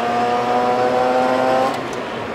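A Mazda RX-8 rotary engine is held at high revs toward redline, giving a loud, steady harmonic whine that drops away near the end, with no talking.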